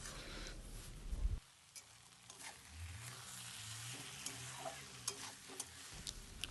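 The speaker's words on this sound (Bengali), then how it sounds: "এটাকে ভালো করে নাড়াচাড়া করে নেব।" Kalmi greens curry being stirred in a pan, a soft sizzle with scraping stirring strokes and small clicks of the utensil, fairly quiet and close, no talking.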